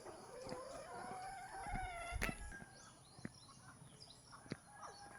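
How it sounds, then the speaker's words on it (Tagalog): Chickens cluck and a rooster crows outdoors along a walking path, the crow rising clearly at the start among scattered nearby clucks and bird calls, moderately close. "Daming manok."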